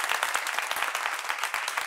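A studio audience at a French-language talk show applauds vigorously, a loud, continuous patter of many hands clapping with no break across the short stretch.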